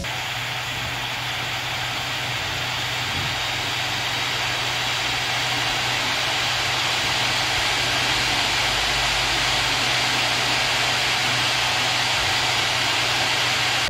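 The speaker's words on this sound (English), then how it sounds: "the fans really sound like small jet engines with a high-pitched whining sound" The cooling fans of a Lenovo Legion Y740 gaming laptop whine loudly like small jet engines, a constant close rushing roar with a high-pitched edge that holds steady throughout.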